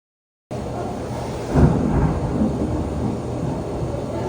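Thunder rolls through a severe thunderstorm, with a loud rumbling crack about a second in and a continuous low roar that persists close overhead, with no voices.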